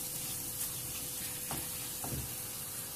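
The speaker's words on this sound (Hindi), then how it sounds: "अब मैं इसको चम्मच के साथ ही ऐसे मिक्स करूंगी थोड़ा सा" A spoon stirs potato halwa with khoya in a pan over a soft, continuous sizzle of frying, with a few faint scraping strokes.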